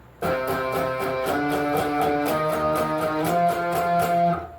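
An electric guitar plays a steady riff in octaves, repeated pattern stepping up in pitch, continuous and clear with no voices.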